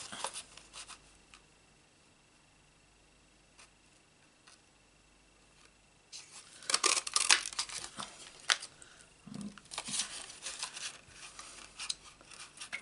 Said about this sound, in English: I'm going to cut this as we want to cut these, punch these two hearts out